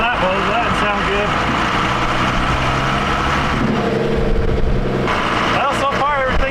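A Cummins-powered Ford Dentside pickup truck drives on the road, its diesel engine droning steadily and loudly up close through gear changes, with a shift in pitch partway through.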